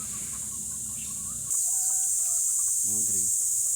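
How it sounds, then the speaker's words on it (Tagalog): Hens on a breeding farm in Dolores, San Pablo City cluck and call in short bursts, closer at the end, over a steady high farm hum with a voice speaking. "Maganda ng mga inahin."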